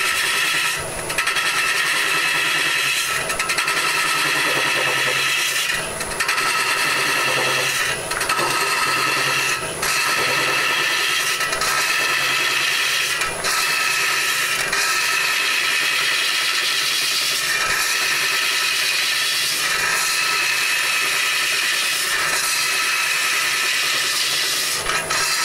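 A wood lathe turns a wooden lamp base while a tool smooths the inside of a drilled hole, giving a continuous hissing scrape with repeated short clicks and knocks at a steady working rhythm, close up.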